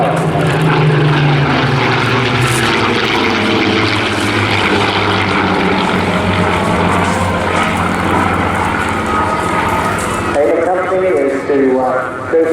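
Rolls-Royce-engined Spitfire and Mustang warbirds fly at an airshow, a loud, sustained propeller-engine roar that holds steady for most of the stretch under a public-address voice, then eases slightly near the end.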